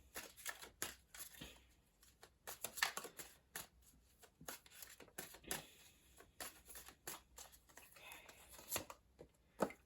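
A Rider-Waite tarot deck is shuffled and a card is pulled, giving faint, close, irregular flicks and riffling snaps in quick bursts.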